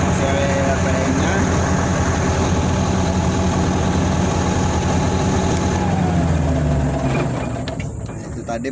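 The diesel engine of a Komatsu D85-3 bulldozer runs loud and steady at high revs, then audibly winds down and fades toward the end.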